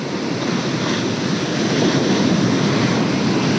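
Ocean surf washing onto a California beach during fall, steady and loud with constant broadband roar and some wind buffeting the microphone, no voices.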